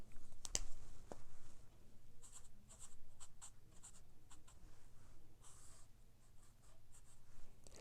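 Pen or marker writing a mark on fabric while sewing a laptop bag, soft and close, with a few light scratchy strokes and taps scattered over a quiet background.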